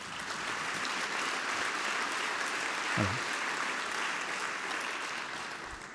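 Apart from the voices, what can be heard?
congress audience applauding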